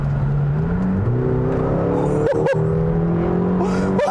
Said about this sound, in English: the engine isn't quite as loud as I thought it would be